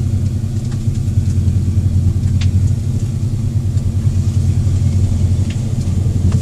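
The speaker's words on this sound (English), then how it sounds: "We're just rolling in neutral here now." A car that has sat in a driveway for a year, with rust-covered brake discs, rolls slowly in neutral, making a continuous close low rumble with faint scattered clicks and no voices.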